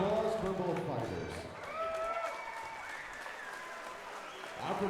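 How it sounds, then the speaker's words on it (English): A crowd applauds both fighters at the end of a three-round bout, a faint, steady patter of clapping that runs beneath a clear announcer's voice throughout. "a big round of applause for both fighters"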